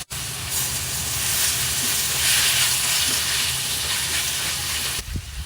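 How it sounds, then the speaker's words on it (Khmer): Beef tossed into a hot pan with carrots and onions for Khmer fried rice gives a loud, continuous hissing sizzle close up, with occasional stirring knocks, then drops away sharply near the end. "ពេលបន្លែឆ្អិនហើយខ្ញុំដាក់សាច់គោ"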